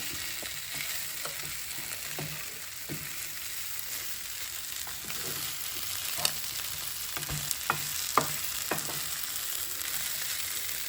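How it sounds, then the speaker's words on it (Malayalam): Beef fry sizzling steadily in a pan, a continuous hiss with scattered sharp crackles and pops, and occasional stirring knocks building toward the end; close and fairly loud, with no talking. "ഇത് ഫ്രൈ, ബീഫ് ഫ്രൈ."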